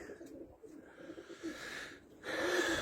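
Pigeons cooing on the ground after landing, soft murmuring calls close by with breezy outdoor background, growing louder toward the end.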